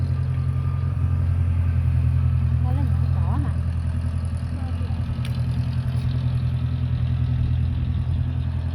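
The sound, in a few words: restored old farm tractor engine running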